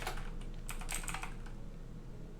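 Typing on a computer keyboard, a quick close run of clicking keystrokes clustered near the start and fading into a steady background hum.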